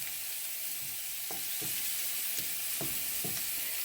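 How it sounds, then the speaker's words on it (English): Tomato masala sauce for tofu tikka masala simmers and hisses in a pan while a utensil stirs it, adding several soft scraping strokes over a constant, moderately quiet sizzle. "I'm going to give it a stir. Let these tomatoes start cooking down"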